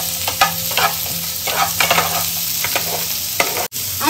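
Soya chilli fries in a hot pan with a dense, crackling sizzle close up, broken by scraping stirs and spattering at irregular intervals, with no voices.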